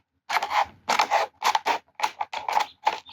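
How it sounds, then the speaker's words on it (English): A plastic 2-liter bottle being cut open, with six or seven short, crisp crunching snips in a steady rhythm, close and distinct with silence between cuts. "cut open a plastic 2-liter bottle"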